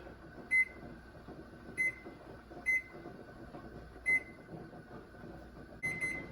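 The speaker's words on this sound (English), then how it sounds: "so our timer's went off" A kitchen timer beeps five times at roughly one-second gaps over a low steady hum, with a sixth longer beep at the end.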